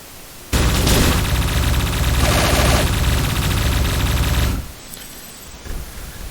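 A video game enemy AI opens fire on the player, producing a loud, dense burst of rapid automatic gunfire that runs for about four seconds before cutting off, followed by quieter game noise.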